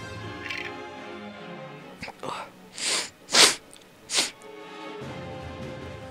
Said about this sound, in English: Oh no, I'm gonna sneeze.